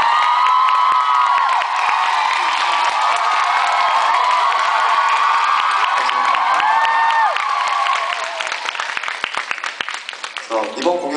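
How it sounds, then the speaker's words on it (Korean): A concert audience in a small, cozy venue at a show applauds and cheers loudly and steadily, with whoops and shouts, thinning into scattered claps near the end. "박수 한번 쳐주시겠어요?"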